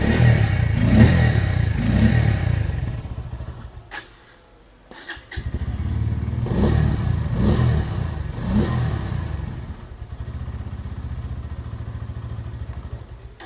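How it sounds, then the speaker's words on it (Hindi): A Bajaj Pulsar N150 motorcycle engine idles with a low, throbbing putter, cuts out briefly, then is revved a few times in short rises and falls before settling back to idle, heard close. "ये जो साउंड है गाइस आइडल साउंड है, अभी थोड़ा सा रेव करते हैं"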